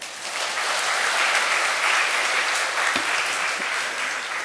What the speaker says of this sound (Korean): 이분들 박수 한번 쳐줍시다.